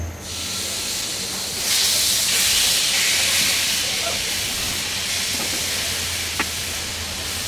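Chicken kebab sticks set into a hot pan on a stove, a loud, broad sizzling hiss that swells after they go in and then settles into a steady crackle, with a faint voice in the background.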